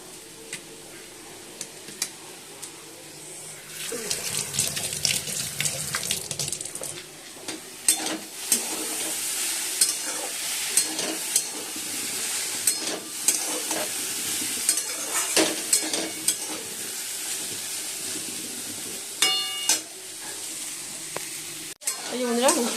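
Potato pieces frying in a pan in a home kitchen, with a steady close sizzle broken by repeated clinks and scrapes of stirring, and occasional talk over the cooking.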